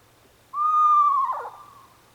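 A screech owl gives a single call, a clear quavering whistle that wavers into a short rough trill at the end, heard alone against near silence.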